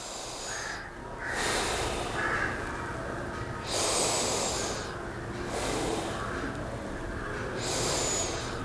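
Slow, deep breaths drawn in and let out by someone sitting upright with eyes closed in a Varada mudra meditation, a steady cycle of soft, airy inhales and exhales every few seconds, close and alone.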